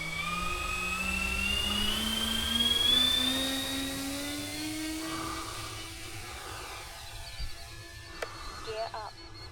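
A Hobby King B-17 radio-controlled model plane flies past with a high, whining motor tone that sweeps upward, swells, then fades into the distance, leaving faint background sounds near the end.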